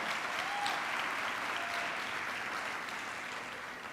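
A congregation at a youth church service claps steadily and strongly, a dense, even wash of applause filling the hall without pause for the whole stretch.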